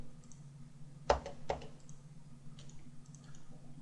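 A computer mouse clicks while lines are drawn in 3ds Max, two or three sharp close clicks in quick succession, then faint ticks over a quiet background hum.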